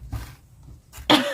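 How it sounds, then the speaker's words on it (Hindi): A woman coughs twice in quick succession, the second cough louder and sharper, close to the listener in a quiet room. "मैं बीच बीच में खांसी आती रहेगी"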